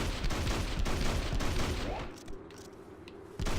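Rapid gunfire crackles continuously in the Hunter: The Reckoning video game for about two seconds, then stops, and a quieter rumble remains before a sudden sharp sound at the end.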